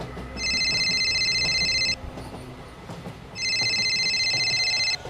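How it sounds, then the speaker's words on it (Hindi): A phone rings in two long electronic trills separated by a short pause, clear and fairly close. "तभी उसका फोन बज पड़ा।"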